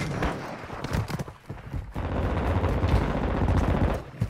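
Rapid automatic gunfire from a 9mm weapon in a shooter video game, loud continuous bursts with a short gap, close and dense throughout.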